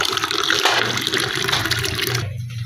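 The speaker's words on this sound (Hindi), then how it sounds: "इसके अंदर पानी डाला" Water runs from the tap of an air cooler into a drinking glass, a loud continuous gushing and splashing stream that tapers off at the end, with no talk over it.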